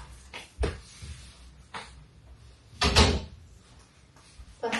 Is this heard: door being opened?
yes